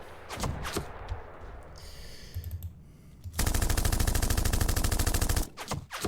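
Gunfire from the Panzer Campaigns Kiev '43 wargame: a few sharp shots early on, then a loud, dense machine-gun burst of rapid, evenly spaced rounds lasting about two seconds, followed by a couple of closing shots.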